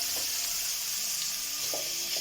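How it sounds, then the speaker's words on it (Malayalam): Bitter gourd frying in coconut oil in a pan over lowered flame, giving a steady close hiss and sizzle with a few soft bubbling pops and no voices. "ഒരു ചീനച്ചട്ടി എടുത്തിട്ട് അതിൽ നല്ല വെളിച്ചെണ്ണ ഒഴിച്ചിട്ടുണ്ട്. അതിലേക്ക് നമുക്ക് ഈ പാവയ്ക്ക ഒന്ന് മൂപ്പിച്ചെടുക്കാം."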